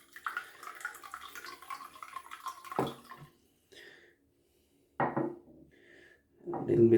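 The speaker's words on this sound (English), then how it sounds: "I'm gonna just fill my mug with water" Tap water running into a shaving mug for lather, a broad steady rush lasting about three seconds and then cutting off, followed by a few short splashes and knocks.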